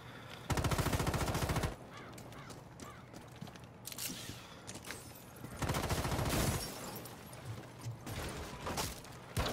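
Automatic rifle fire in the video game Rainbow Six: Siege. Two loud, close bursts of rapid shots, each lasting about a second, are separated by quieter game ambience and clatter, with no talking.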